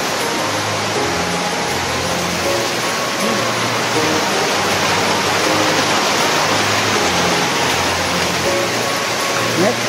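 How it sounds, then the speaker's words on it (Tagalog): Heavy dripping from a leaking roof sounds like steady pouring rain throughout, a dense continuous wash of falling water with a low hum beneath; no distinct drips stand out. "lakas ng tulo ito"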